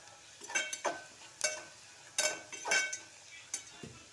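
Turmeric, chili powder and coriander powder are stirred in a hot pan for a dal. Soft, scattered scrapes and light sizzles come in short bursts against a quiet background.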